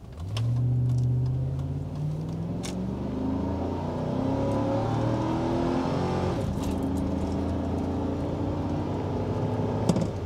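A Chevrolet Tahoe fitted with an electric fan accelerates hard from 0 to 50 mph, its engine note climbing through several gear shifts in steady rising sweeps, heard from inside the cabin.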